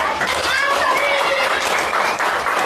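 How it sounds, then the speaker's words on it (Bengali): A group of children clapping steadily and loudly together in a room after a Bengali poem recitation, with continuous clapping filling the whole stretch and some chatter mixed in. "হাততালি দাও জোরে"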